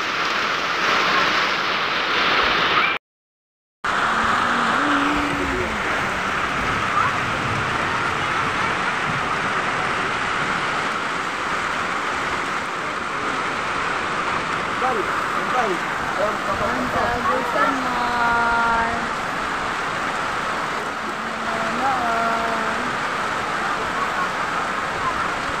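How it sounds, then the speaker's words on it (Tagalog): Heavy rain pours steadily and close by throughout, a dense continuous hiss, with people talking and singing over it and one brief silent gap. "Malakas na naman ang ulan."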